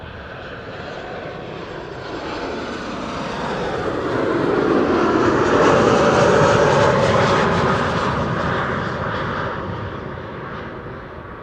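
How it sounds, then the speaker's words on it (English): A Delta Airlines Airbus A350 arriving at Amsterdam Schiphol from Atlanta roars past as a loud sustained jet rumble that swells to a peak midway and slowly fades, with no talk. "Delta Airlines flight 74 coming in as number 3. That's an A350 arriving from Atlanta"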